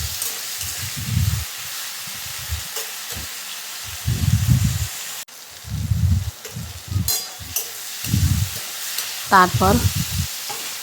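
Potatoes fry in a pan with onion and tomato, giving a close sizzle broken up by repeated bursts of stirring and scraping. A brief voice is heard near the end.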